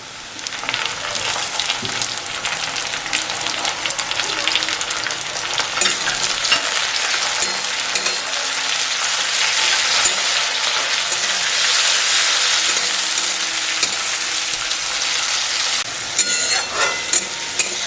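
Chopped tomato and green chilli hit lightly fried onion in a hot pan, giving a loud, steady sizzle with repeated stirring and scraping throughout and no talking.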